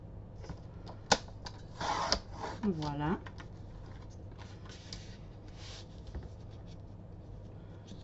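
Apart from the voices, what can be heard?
cutting black paper for a Christmas card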